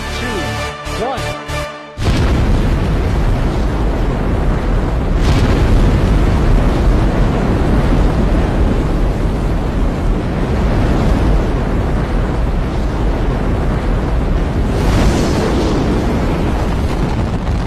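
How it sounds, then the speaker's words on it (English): After a brief beeping countdown tone, a massive rumbling roar erupts and holds steady, loud and deep like rocket engines firing at liftoff. "Four-stage engine start."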